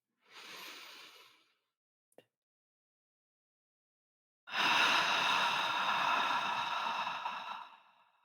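Slow, deep meditative breathing close up: a short soft inhale, a pause of silence, then a long drawn-out breath that fades away, with no talk.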